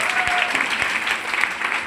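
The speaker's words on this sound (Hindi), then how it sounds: "कृष्णा सर के लिए एक बार ताली होनी चाहिए।" Audience applause in a small gathering, a steady, dense wash of clapping hands lasting throughout, fairly loud and close, with a few voices faintly mixed in.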